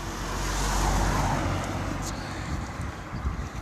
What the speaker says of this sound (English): Once this car's passed.